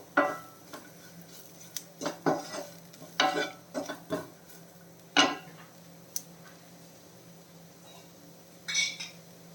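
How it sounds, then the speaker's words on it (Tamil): Masala stirred and heated in a pan for Kerala fish molly, a spoon scraping and clinking against the pan in scattered strokes over a low, steady sizzle, with no talk. "ஒரு அரை நிமிஷம் இந்த போட்ட மசாலாவோட பச்சை வாசம் போகணும் அந்த மாதிரி சூடு பண்ணிடலாம்"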